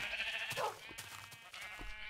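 Sheep on a game farm let out a quiet bleat, followed by a couple of fainter, shorter bleats with soft clicks in between.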